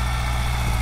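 A Mahindra 475 tractor runs steadily with a tiller attached, a loud, continuous low engine drone with an even throb and no speech.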